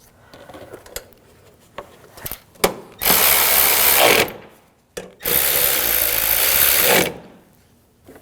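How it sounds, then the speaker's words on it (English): A power driver runs screws in on a 2007-2013 BMW 328i 3.0L inline-six, with two loud whirring bursts of about a second and two seconds, preceded by light clicks and handling noises nearby. "Now take these two screws, get those started."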